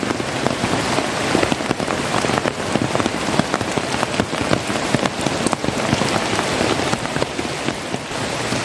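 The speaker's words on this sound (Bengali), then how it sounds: "এই অঝোর বৃষ্টির মধ্যে দেখতে হচ্ছে।" Heavy downpour drums on surfaces at an orchid garden at the foot of a hill in Arunachal Pradesh, making a loud, dense and unbroken patter for several seconds.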